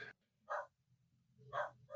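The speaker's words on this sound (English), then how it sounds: "Make that dog be quiet." A dog barks at a distance, two separate bursts of short, muffled barks a second apart, faint against a quiet room.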